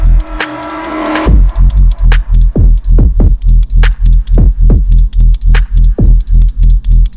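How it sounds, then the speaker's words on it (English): A loud dubstep track with a saturated, dubby reverb on the snare thumps in steady, evenly spaced pulses over a heavy, distorted bassline. "you can hear it's a really dubby reverb that. And it's saturated."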